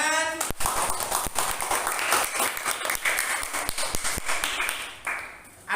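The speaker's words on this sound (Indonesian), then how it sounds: "Bagus, tepuk tangan." Schoolchildren in a classroom clap together in a lively, uneven burst, with sharp individual claps standing out above the patter and some voices mixed in.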